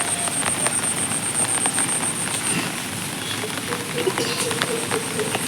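Rain falling on a rooftop garden, a steady dense hiss of drops with scattered louder taps and a constant high whine running through the first half.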